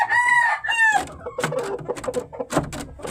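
A fighting rooster crows loudly and close up, one drawn-out call, followed by someone talking.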